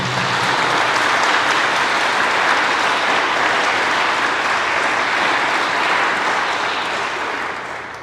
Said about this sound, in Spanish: vamos a darle un aplauso de bienvenida